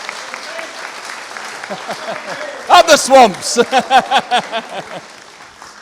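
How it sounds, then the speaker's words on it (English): Wedding guests clap and cheer in a room, starting as scattered claps under a shouted voice, then swelling into a loud burst of rhythmic clapping and whoops before fading. "So a big round of applause to all of you."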